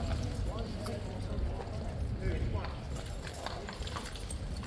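Horses' hooves clip-clop in a steady, continuous patter at a King's Guard competition outdoors in wind and drizzle, with a commentator talking over the hoofbeats throughout.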